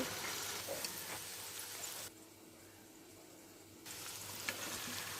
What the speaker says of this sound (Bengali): সেটাকে একটু ভালো করে ভাজা ভাজা করে নিচ্ছি